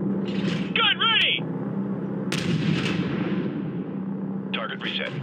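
Gunfire in Call of Duty Modern Warfare Remastered, heavy booming shots with rumbling tails amid vehicle drone, while voices call out over the action.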